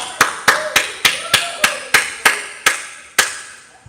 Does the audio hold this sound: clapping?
yes